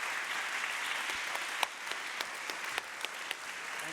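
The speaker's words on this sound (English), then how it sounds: "can we get another round of applause for our amazing panelists, Erica and Seth, please?" An audience applauds panelists at the end of a conference session, a steady wash of clapping with a few sharper individual claps standing out, moderately distant.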